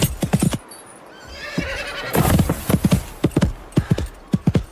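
A horse neighing loudly, then hooves clip-clopping in a rapid gallop rhythm that continues close by, with no talk.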